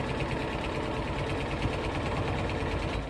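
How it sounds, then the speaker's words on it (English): A home sewing machine stitching around a shirt, running continuously with a fast, even mechanical whir and rapid needle chatter, close and steady throughout. "I just took and just turned it over and sewed it all the way around"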